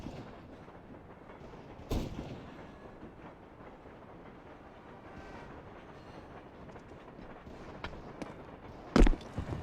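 Two grenades burst in a Counter-Strike match, one sharp blast early and a second, louder one near the end, over a low, steady background rumble.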